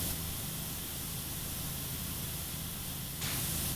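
A pressure washer in the video game Powerwash Simulator sprays in a continuous loud hiss, steady for several seconds, then shifts to a brighter, sharper jet near the end.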